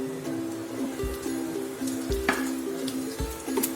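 Soft, steady sizzling of chopped green chillies frying with ginger in a pan, with occasional clinks and scrapes of stirring, quiet and close with no talking.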